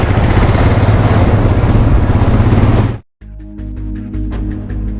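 A motorcycle roars along close by with a loud, steady rumble, cuts out briefly, then returns with a clattering, rhythmic rattle like train wheels as it crosses a bridge over its joints in Ladakh.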